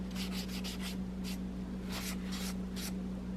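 A cloth or brush rubs chalkboard paint crumbs off a painted Z'gok model kit in a series of quick, scratchy strokes over a steady background hum.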